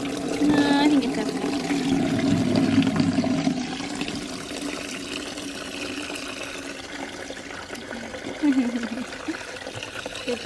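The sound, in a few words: filling a bucket with water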